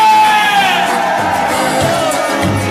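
A dense crowd at the Parioli disco in Montagnana shouts and cheers together in one loud, sustained roar with whoops and yells, filling the whole stretch without a break.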